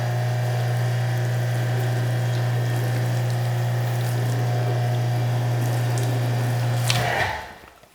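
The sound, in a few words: water running down a car panel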